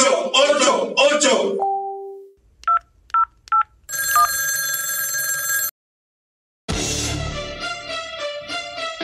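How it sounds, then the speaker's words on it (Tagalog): An old-style telephone bell rings in loud bursts in a Filipino talk segment, after a stretch of voiced sound and a few short electronic beeps, with a brief silent gap between two ringing passages. "Kapag pinutulan, tawagan si Digong sa numerong 8888."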